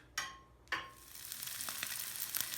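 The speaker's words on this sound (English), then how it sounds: "make sure it's going to be hot before you add the shrimp" Shrimp hit hot canola oil with two sharp crackling bursts, then settle into a low, steady sizzle with faint pops.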